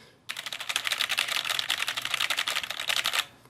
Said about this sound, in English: Now listen to the Roccat Vulcan.